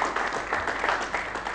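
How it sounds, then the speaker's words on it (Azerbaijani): Audience applause on a quiz show as a contestant who reached the final is sent off, a dense burst of clapping from the crowd, fairly loud and continuous for a short moment. "Alqışlarla yola salırıq."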